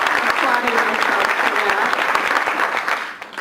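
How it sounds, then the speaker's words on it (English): An audience at an award presentation applauding, a full crowd of steady clapping that holds strong for about three seconds before tapering slightly, with a voice faintly audible beneath it. "we should keep applauding ourselves"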